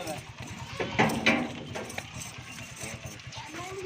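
Goats bleat while being loaded as cargo, a couple of sharp nearby bleats early on over a busy background of shuffling hooves, clatter and talking voices.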